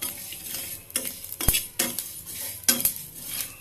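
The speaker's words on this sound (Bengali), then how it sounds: "মেথি ধনে একসাথে ভেজে নিচ্ছি।" Fenugreek and coriander seeds frying in a pan for a capsicum and chilli pickle: a soft sizzle broken by loud, close metallic clanks of a spoon stirring and striking the pan several times.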